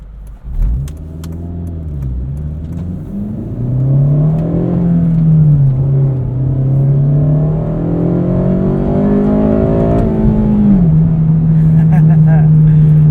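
A 2009 eighth-generation Honda Civic Si engine hums from inside the cabin while driving, rising and falling in pitch as it accelerates and shifts, steady and moderately loud.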